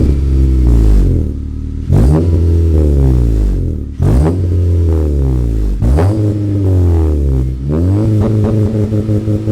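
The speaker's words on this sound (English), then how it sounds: "And now a couple of revs with the car at operating temp." A 9th-generation Honda Civic at operating temperature with a full 3-inch downpipe and exhaust system revs loudly four times, each blip rising sharply then dropping back to a steady idle, close and without any talking.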